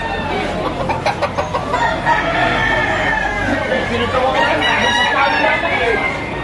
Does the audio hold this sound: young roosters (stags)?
yes